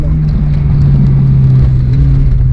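A car powers through an autocross slalom at an SCCA event in Moultrie, Georgia, its engine droning steadily and loudly at close range for a couple of seconds with no talk over it.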